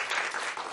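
A congregation at a church New Year service claps for a saxophone player, a brief dense burst of applause from many hands close by.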